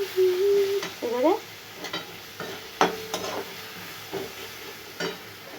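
Ingredients for a pomfret fish curry fry and sizzle softly in hot oil, salted, while a utensil stirs in irregular bursts of scraping and clicks close by.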